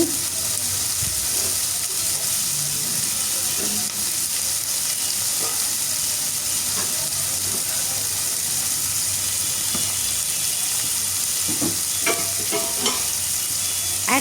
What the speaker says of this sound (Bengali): এখন পেঁয়াজগুলো আমি খুব ভালোভাবে ভাজতে থাকবো